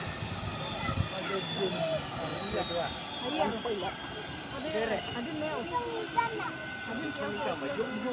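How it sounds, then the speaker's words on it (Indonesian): A helicopter flies overhead, its engine and rotor noise a steady broad roar filling the clip, with fainter voices and outdoor sounds mixed underneath. "Helikopter sinundan siya."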